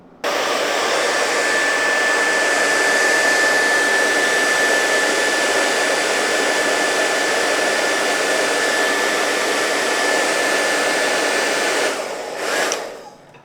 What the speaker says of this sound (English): a hairdryer is the next best thing